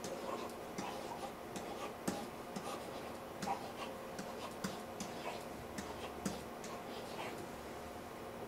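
Quiet scratching and tapping of a pen writing out the 8 times table, a run of faint, irregular ticks over low background hiss.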